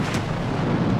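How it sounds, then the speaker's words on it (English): A flammable vapor cloud explodes at the TPC Group chemical plant, a deep, heavy blast rumbling loudly and continuously through the whole moment. "the flammable vapor cloud found an ignition source and exploded"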